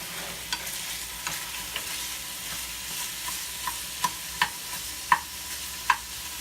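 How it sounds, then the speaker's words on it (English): Meat frying in a pan for country gravy, with a stir stick scraping and clicking through it in soft, irregular strokes that grow sharper toward the end over a low, steady sizzle. "Now I gotta get me a stir stick."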